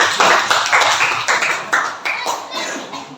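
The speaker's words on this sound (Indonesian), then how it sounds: "Jadi aplaus untuk Mas Ridho." Applause for Mas Ridho during a teachers' coaching session on academic supervision, a short burst of clapping from a small group, close and steady for about three seconds before tapering off.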